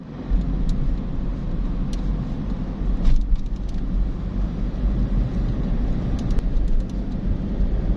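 Steady low rumble of busy road traffic, cars passing continuously nearby with a constant engine drone and a few brief louder swells, no voices.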